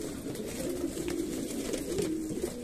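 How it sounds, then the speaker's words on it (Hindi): Pigeons confined in a cage, restless in a new place, coo softly and steadily in a low murmur, with faint shuffling beneath. "आप देखिए कबूतर नई चीज़ जगह आए हैं तो कैसे मचल रहे हैं वो बाहर निकलने के लिए"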